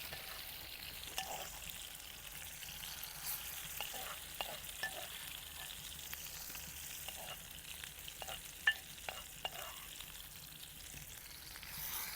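Masala spices fry in melted butter, a faint soft sizzle with scattered light stirring clicks and scrapes, close and quiet throughout with no talking.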